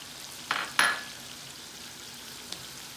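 Fish biryani masala with fried onions frying in a pan, a low steady sizzle broken by two short bursts of crackle near the start as onions go in, then a single faint pop later.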